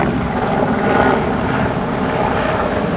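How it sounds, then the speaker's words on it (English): Aircraft passing overhead, heard as a continuous broad engine roar that swells slightly around the middle and stays fairly loud throughout, with no talk over it. "there's a helicopter coming over now"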